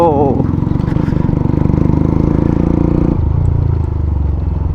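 A Hero Xtreme 125R motorcycle fitted with an Akrapovic full-system exhaust, idling and revving close by with a loud, rough, throbbing exhaust note that drops in pitch partway through.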